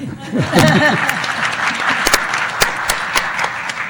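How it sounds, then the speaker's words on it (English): An audience at a university scholarship showcase claps steadily through the whole stretch, with a few sharper claps standing out near the front. "You can applaud them."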